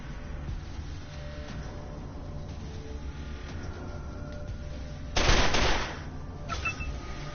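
SMG gunfire in the Wasteland 2 video game: a short burst of automatic fire erupts loudly over steady game ambience, followed by a fainter sound moments later.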